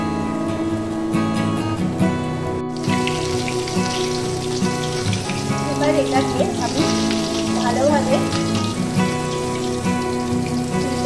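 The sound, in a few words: chicken drumsticks frying in hot oil in a wok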